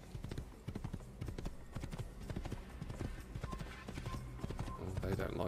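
A horse's hooves gallop in the original Assassin's Creed video game, a quick, rhythmic clip-clop that stays steady and fairly close throughout, with a voice talking over it.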